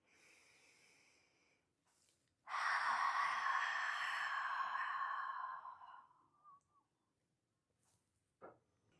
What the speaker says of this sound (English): Inhale through the nose, exhale.